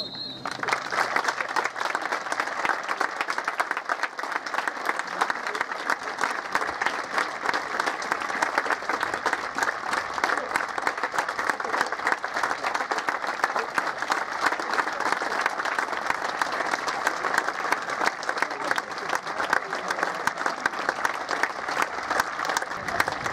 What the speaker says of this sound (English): So we will please have a minute's applause in recognition of Peter's great contribution to the game.